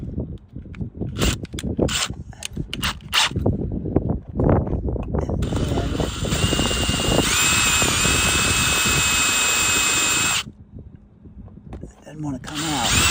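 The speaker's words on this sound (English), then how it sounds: "So you got to drill out that piece of buck rivet." A power drill whines steadily, drilling out a buck rivet on an Airstream trailer. Tapping and handling sounds come first, then several seconds of continuous high-pitched drilling that cuts off abruptly, followed by light clatter.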